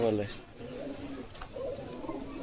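A kaldom pigeon gives soft, low coos near a person who is talking.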